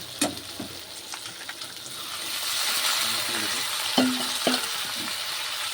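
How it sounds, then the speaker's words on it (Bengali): Vegetables and bori (sun-dried lentil dumplings) fried earlier are tipped into cooked-down spice masala for chhyachra with fish heads, giving a soft, steady sizzle and a few stirring clinks at moderate distance, with brief voices in the background. "এখন আমি ভেজে রাখা সব সবজি আর বড়ি একসাথে দিয়ে দেব"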